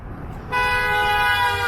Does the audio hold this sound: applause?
no